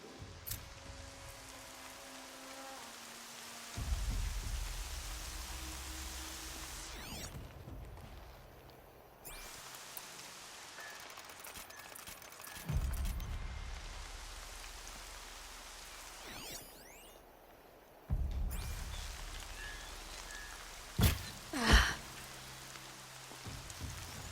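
Rain falling in the game Horizon Zero Dawn, a steady hiss of drops that swells and fades in several waves over about twenty seconds, with a few sharp impacts near the end and no talking.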